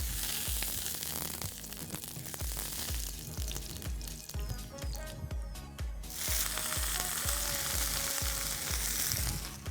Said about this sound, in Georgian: კარგად გადაუსვათ ისე რომ ლამაზად დაიბრაწოს კომბოსტო